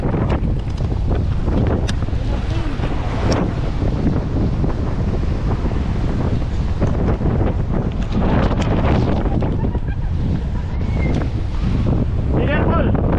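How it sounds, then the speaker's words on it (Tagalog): Strong wind buffets the microphone on Bokor Mountain in Cambodia during an uphill bike ride, a loud continuous roar with gusty surges throughout. "Too much wind ah."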